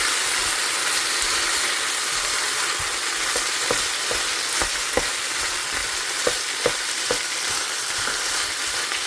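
Chicken fries in butter in a pan with a steady, loud sizzle and hiss, broken now and then by sharper clicks and scrapes of a utensil stirring.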